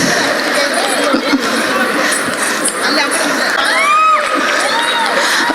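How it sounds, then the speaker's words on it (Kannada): Loud cheering from a crowd, with children's shouts and chatter, welcoming young Yakshagana performers; a dense, continuous roar with a few high whoops rising above it. "ಜೋರಾದ ಚಪ್ಪಾಳೆಯೊಂದಿಗೆ ಸ್ವಾಗತಿಸಿ"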